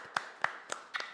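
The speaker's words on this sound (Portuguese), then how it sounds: "Eu queria encerrar batendo palmas para vocês." One person claps slowly for an audience, four distinct, spaced hand claps close to the mic in a quiet room.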